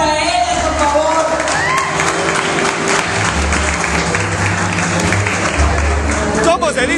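A party crowd at a Toronto costume fiesta claps and cheers loudly for a group of dancers, with whoops and shouts over a dense wash of applause, music or voices running underneath throughout.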